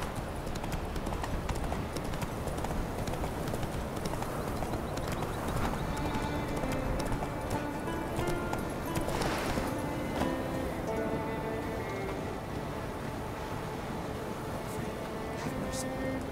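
Hoofbeats of a horse in the video game The Witcher 3 thud in a continuous rhythmic clip-clop beneath music and game ambience, with a brief voice part way through.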